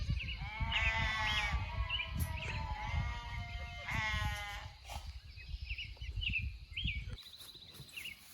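Several sheep bleat in a garden, with wavering calls near and loud over a low rumbling background. Some overlapping calls and a higher bleat come toward the end.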